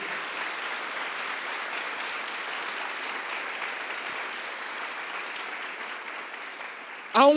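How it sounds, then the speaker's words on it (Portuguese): A Portuguese-speaking church congregation applauds in praise, a sustained, even wash of clapping filling the room, ending with a brief louder sound at the very end. "dê um aplauso ao Senhor por isso."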